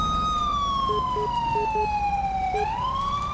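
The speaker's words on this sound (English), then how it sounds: "Shut my siren off." Police car siren in the video game LSPDFR (GTA V), a highway patrol vehicle, wailing in a long falling sweep and then rising again, loud and close over engine and road noise.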